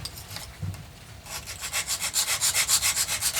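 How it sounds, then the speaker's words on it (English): Rapid back-and-forth rubbing of sandpaper on a wooden guitar headstock, a steady rhythmic scratching that starts faint and grows louder and closer, with no voices. "So now we'll just try sanding it down."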